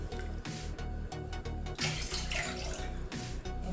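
Water from a tap runs steadily into a pot holding a cup of washed basmati rice, a continuous close splashing pour with small gurgling shifts, no voices over it.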